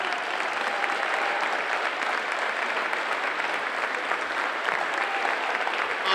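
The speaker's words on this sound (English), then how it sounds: "would you mind getting on your feet and clapping it up for John Penkela?" Gym crowd at a boys' basketball tournament final standing and applauding for John Penkela, a steady dense wash of clapping that holds evenly loud throughout with no talk over it.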